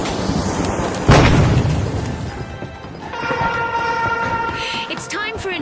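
A grenade going off in the arena shooter THE FINALS, one sharp loud blast followed by a rumbling tail, with a voice speaking over the aftermath.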